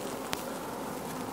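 Honey bees buzz at a hive in a steady, dense drone that holds close and unbroken throughout, with one brief click near the start.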